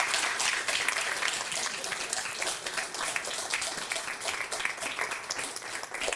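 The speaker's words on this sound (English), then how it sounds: "Let's give Rebecca a big round of applause" An audience at a book talk gives a steady round of applause, many hands clapping at a moderate, slightly distant level for several seconds without voices.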